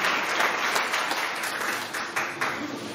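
A church congregation at a charismatic prayer seminar applauds to praise the Lord, giving a dense, sustained burst of many hands clapping at full volume throughout, with no clear voices above it.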